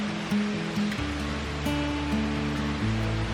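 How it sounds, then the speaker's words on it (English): Waterfall in the Black Forest, a short roadside cascade a few steps off a pull-in, giving a steady broadband rush of falling water, moderately near with low tones running underneath. "And here is the waterfall."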